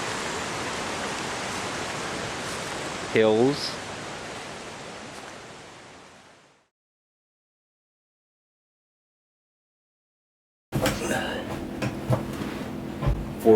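Water rushes steadily over a creek dam at Elk Lake, a broad, loud hiss for several seconds that fades to silence, then returns with a voice speaking over it.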